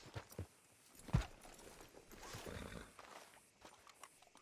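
A horse in Red Dead Redemption 2 gives a few scattered hoof clops and snorts, with one sharp thud near the middle against quiet game ambience.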